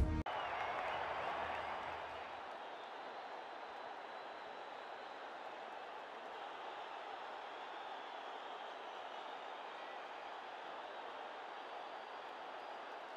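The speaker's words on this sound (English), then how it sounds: "Huge cheers from the crowd as the players make their way out into the ground." A large stadium crowd at a cricket ground in an India versus Pakistan video game match keeps up a steady distant roar of cheering and clapping, loud at first and then settling into an even wash of noise.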